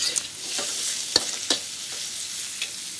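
Vegetable stems for Hokkien noodles stir-fried in a hot pan, giving a steady sizzle with a few sharp scraping clicks of the utensil, close and alone without talk.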